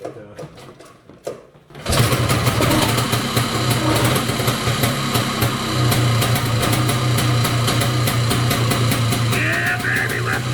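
A 55-year-old Johnson outboard motor catches after a few faint knocks and settles into a loud, continuous buzzing run with a steady low hum and a rapid, even pulse.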